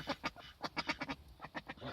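Several ducks quack in quick, irregular bursts inside a snowy coop, the calls close but fairly quiet.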